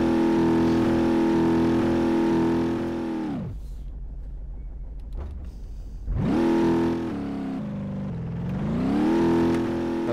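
A damaged car drives in BeamNG.drive with a steady, droning engine hum that drops off for a few seconds, then revs back up and swells again as it keeps going.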